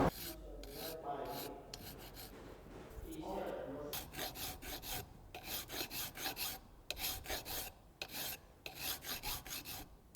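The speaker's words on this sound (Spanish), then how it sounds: "Parece fácil, pero no es fácil limar bien." Hand filing a metal workpiece on a lathe, a close, loud rasping rhythm of repeated strokes that grows regular and evenly paced after a rougher start.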